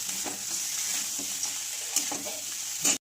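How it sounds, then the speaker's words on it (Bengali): River crabs coated in spice masala are stirred in a pan, a continuous bright sizzle with a few scraping strokes of a spoon and a louder clatter at the end, close up and without speech. "কাঁকড়ার সাথে মশলাগুলো ভালো করে মাখিয়ে নিতে হবে"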